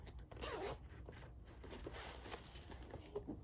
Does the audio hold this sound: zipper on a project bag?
yes